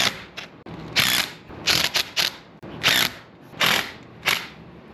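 New bolts being tightened with a hand ratchet on a Honda Recon ATV, close, loud bursts of rapid clicking in short uneven strokes with brief pauses between.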